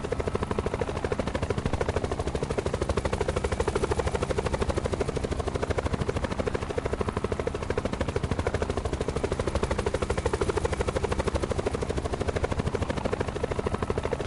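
Helicopter in the Black Ops 4 Blackout battle royale game, a steady loud rotor and engine roar running without a break from start to finish, close and constant, with no talking.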